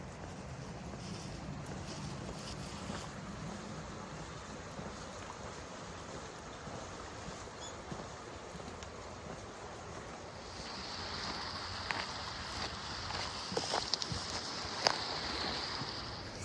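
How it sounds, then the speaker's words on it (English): Stream water in Shizuoka rushes with a constant broadband wash, steady and close, with some brighter splashing and hiss building toward the end. "This water flows all year long."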